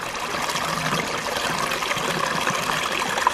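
Water from a micro hydro intake spills over the edge of a Coanda screen in a steady, close trickling rush that keeps an even, unbroken level throughout.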